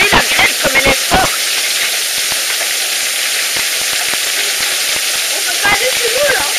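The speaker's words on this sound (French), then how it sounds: "Regardez la grêle comme elle est forte." Heavy hail pounding down during a storm in the Var, France, a dense, loud, steady hiss and roar of hailstones striking surfaces, with people talking over it at the start and end.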